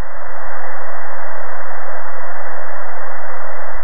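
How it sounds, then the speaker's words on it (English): Steady loud white-noise test signal, band-limited, recorded through a cheap EZCap USB audio/video capture device, constant hiss throughout with no other sounds. "you should be hearing white noise coming out of the left channel"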